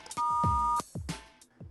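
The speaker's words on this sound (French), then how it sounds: "laissez un message et vos coordonnées après le bip sonore" An answering machine gives a single steady electronic beep of under a second, with thumps and clicks around it and before and after.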